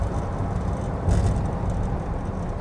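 A big 1950 classic muscle car accelerates hard, its engine producing a loud, rough low roar that swells in the middle and then carries on steadily, heard from inside the car.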